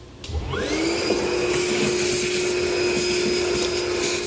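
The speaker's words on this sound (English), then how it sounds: "we're gonna vacuum up the shavings we made from drilling out those holes" A vacuum cleaner switches on and revs up to a steady, loud whine, running continuously with a faint rattle of metal drilling shavings being sucked up.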